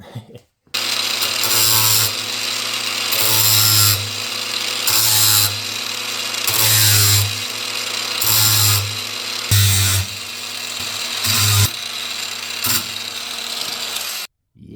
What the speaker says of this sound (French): Et je vais me faire le reste avec la meuleuse. J'ai mis un gros disque, un disque à tronçonner.